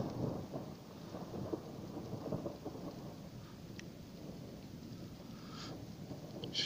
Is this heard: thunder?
yes